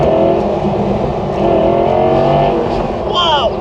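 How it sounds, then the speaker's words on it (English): An Audi R8 V10 Performance in full performance mode revs hard on country roads, its engine roaring loud and sustained from close inside the car. A brief tire squeal follows near the end, and someone talks over the noise. "That engine, oh, you don't need no music."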